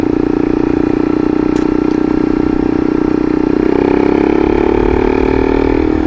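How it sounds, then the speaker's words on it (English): Motorcycle fitted with an aftermarket muffler in place of the stock pipe, riding slowly up a mountain road; a steady, loud engine drone holds throughout, its tone rising slightly partway as the revs climb. "This muffler is so much better than, if you don't know, all I had was a stock pipe before"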